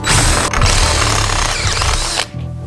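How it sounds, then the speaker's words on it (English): A power drill with a step drill bit bores a large wire hole in a Honda CB500 motorcycle part, a loud, close, steady whine that runs for about two seconds before stopping abruptly. "I'm gonna use a step bit for my big hole for the wires to go through."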